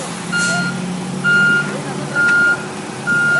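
A concrete-paving truck reverses on a road repair job at an airport, its backup alarm sounding four loud, evenly spaced beeps over a steady diesel engine rumble.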